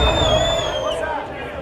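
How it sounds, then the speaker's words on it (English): A racquetball crowd at a pro quarterfinal, Rocky Carson vs Andree Parrilla, roars and murmurs in protest after a call, a loud continuous hubbub of voices that slowly eases, with a commentator speaking over it. "You can hear that crowd getting in after it now."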